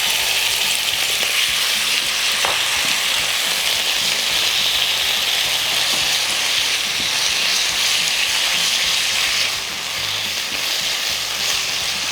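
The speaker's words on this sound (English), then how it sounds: "Lastly, I'm going to stir fry the marinated beef." Marinated beef stir-fries in a hot pan, giving a loud, dense, unbroken sizzle with occasional stirring scrapes and no talking.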